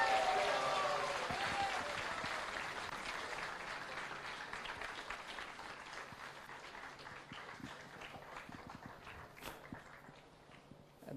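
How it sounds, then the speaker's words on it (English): Theatre-club audience applauding steadily as performers walk onto stage at a Sri Rama Navami event, dense clapping that starts loud and gradually thins and softens over about eleven seconds, with no talking. "Can the applause continue,"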